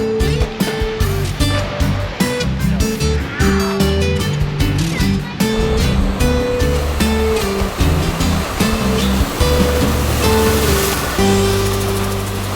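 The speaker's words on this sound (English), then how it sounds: "we are hearing the sounds of the surf" Ocean surf breaking at a beach, heard from a parking lot about a quarter mile away, a continuous loud roaring wash mixed with a busy, rumbling background.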